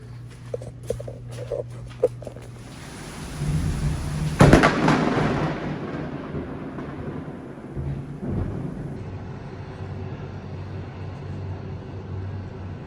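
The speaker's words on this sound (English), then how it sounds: "I don't know how long they have to wait before the thunder and lightning lightens up or moves past" Thunder from a storm over a Florida resort rolls in the distance, building to one sharp, loud crack partway through and then fading into long, low rumbling.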